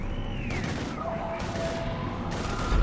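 Sustained gunfire from a Mass Effect 3 firefight, a dense, continuous barrage of shots with booms and a faint voice underneath, steady and loud throughout.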